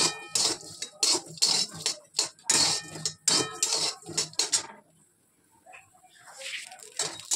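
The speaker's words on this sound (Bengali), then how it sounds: "মূলোগুলো একটু ভাজা ভাজা করে নিই," Radish pieces are stirred in a frying pan after cumin seeds, giving sharp scraping and clattering strokes of a spatula against the pan in quick bursts, then a brief quiet and faint sizzling near the end.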